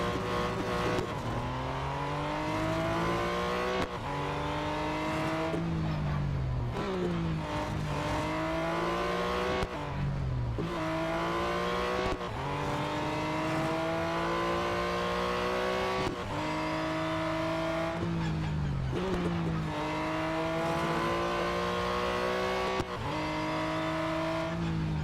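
Race car engine in a racing video game, revving loudly and continuously through repeated rising climbs and abrupt gear-shift drops, with occasional tire noise and no voices.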